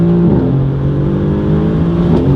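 A Mercedes-AMG GT R engine accelerates with a loud, steady, deep drone heard from inside the car, its pitch climbing slightly through a gear change, with no talking.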